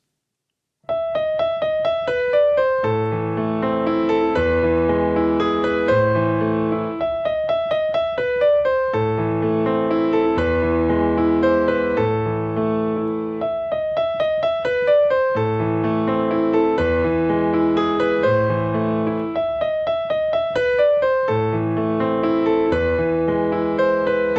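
A solo piano plays the opening part of Beethoven's Für Elise, a flowing, repeating melody with arpeggiated accompaniment, clear and steady, no voices.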